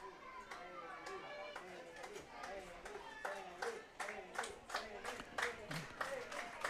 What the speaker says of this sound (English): Crowd is chanting Haley.